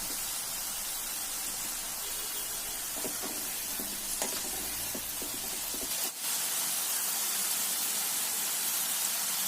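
Food deep frying in hot oil during a second, deeper fry, giving a steady, dense sizzling hiss throughout with a few brief crackles and a short dip near the middle.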